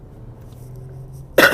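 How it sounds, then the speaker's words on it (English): A single sharp cough bursts out near the end after a stretch of quiet room tone. "Still got this cough."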